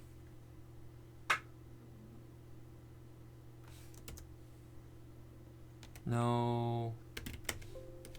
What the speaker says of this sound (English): we're going to type in the command no BGP route target